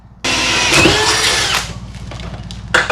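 A loud power drill with an abrasive bit whines steadily through metal for over a second, then its pitch drops as it winds down, with a brief burst of noise at the end.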